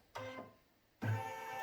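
A sewing machine runs in two short bursts, stitching a decorative bar onto fabric with a steady mechanical whir and hum, separated by a brief quiet pause.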